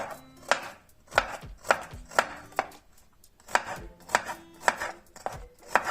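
Brisk knife chopping garlic finely on a board, about a dozen sharp taps in uneven bursts, close and clear with no talking.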